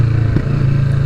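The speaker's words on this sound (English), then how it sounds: "the bike's lovely and noisy around here with these brick walls high up" A 2020 Kawasaki Vulcan S motorcycle engine running steadily while riding between high brick walls, a loud close low drone that holds constant for about a second with a brief clack partway through.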